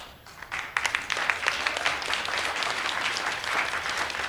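A crowd at a real estate road show gives a big round of applause for the attendees, dense clapping that swells in quickly and holds steady at moderate distance.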